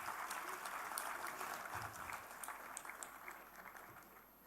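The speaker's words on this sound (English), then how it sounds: "Please give a round of applause to this." Steady applause from a crowd at the opening ceremony of an AI summit, a dense wash of many hands clapping that fills the whole stretch and slowly eases off toward the end.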